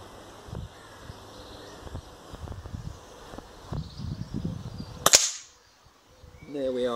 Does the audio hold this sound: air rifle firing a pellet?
yes